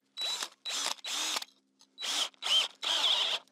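A power drill boring into a wooden fence post for an H brace on a woven wire farm fence, running in six loud, close bursts of about half a second each, separated by short pauses as the trigger is released.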